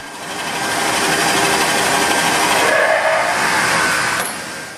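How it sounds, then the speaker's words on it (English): A steady, loud mechanical whir of a drill boring mortises into cedar for a log bed, running continuously for several seconds before tapering slightly near the end. "He's going to be drilling out the mortises for the tenons of the spindles."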